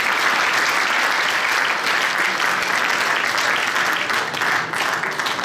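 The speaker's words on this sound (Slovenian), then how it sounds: "En aplavz še enkrat, prosim." Steady, dense audience applause at an award ceremony during a cultural program, a full crowd clapping continuously at close range for several seconds.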